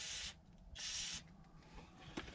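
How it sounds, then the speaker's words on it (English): Two bursts of aerosol spray cleaner hiss, each lasting about half a second, separated by a short pause, cleaning a filter part on a Komatsu D51PX dozer, then quiet with a faint knock at the end. "This part I always clean up with the spray."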